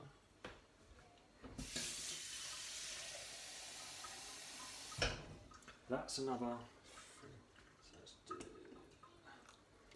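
Water pours in a steady hissing stream into butternut squash and ginger soup for a few seconds, then stops, and a voice talks over the quieter kitchen afterward.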